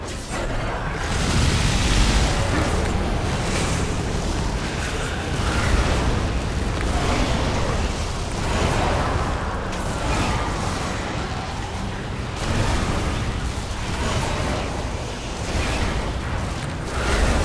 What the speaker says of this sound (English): you saw that big explosion there?